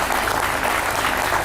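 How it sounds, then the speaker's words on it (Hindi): A brief burst of audience applause at a yoga session, the many hands clapping densely and evenly throughout. "आप लोग भी तालियों से अभिनंदन कर दो भाई"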